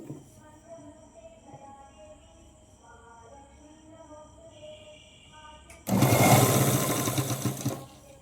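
A sewing machine stitches a Punjabi dress: after quiet low hum and faint handling, the motor starts abruptly and runs in a loud, fast, even whirring rattle for about two seconds before stopping, close up.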